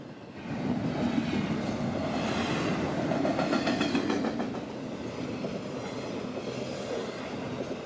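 FEC freight train 202 speeds north, a steady mid-distance rumble of rolling cars with faint rhythmic clickety-clack that eases slightly toward the end.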